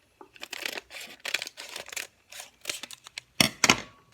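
An oatmeal packet is snipped open with scissors in a series of short crisp cuts and paper crinkles, close and fairly quiet, with brief silent gaps between bursts and no talking.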